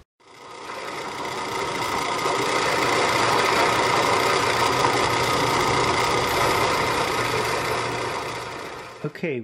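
A drill bores a half-inch hole through steel while a steak hook jig is being made, giving a steady, dense grinding whir that runs unbroken for about nine seconds and cuts off sharply at the end.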